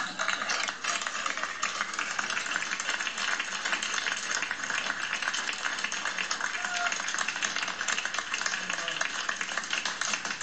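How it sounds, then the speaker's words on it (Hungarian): A radio cabaret audience breaks into long, steady applause to welcome the performer Sándor Fábry, a dense, even wash of clapping that holds at the same level from start to finish. "Fogadják nagy tapsal Fábri Sándort!"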